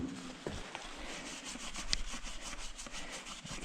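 Cloth rubbing steadily across a car wheel or tire surface to dry it before balancer weights go on, a close, continuous scrubbing texture with rhythmic strokes in a garage.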